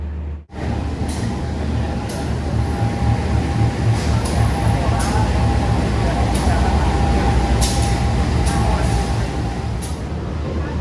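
Gajayana executive train running from Blitar to Malang, heard from inside the carriage as a steady loud rumble and rhythmic rail clatter with faint speech in the background.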